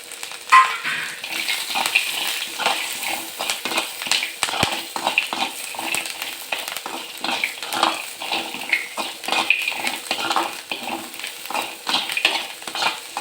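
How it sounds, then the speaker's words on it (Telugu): Green chillies, coconut and onion fry in a pan for a roasted-gram chutney, with a continuous sizzle broken by repeated scraping and stirring strokes of a utensil against the pan, close and fairly loud, with no talking. "జస్ట్ పచ్చివాసన పోయేంత వరకు అట్లా పచ్చిమిర్చి వేయించుకోవాలి"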